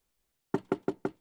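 Four sharp knocks on a door in quick, even succession after a short silence, close and crisp with no voices.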